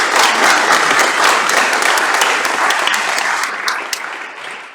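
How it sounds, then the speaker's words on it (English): Steady, loud applause from an audience at a community history event on the founding of New Hartford, Connecticut, sustained throughout and tapering slightly at the end. "So can I get another round of applause for David?"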